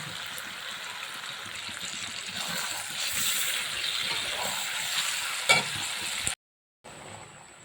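Crushed spices and chicken stir-fried in a pan for a rustic home-style chicken dish, a steady close sizzle with scraping stirs that swell midway, a sharp clack near the end, then a brief silence.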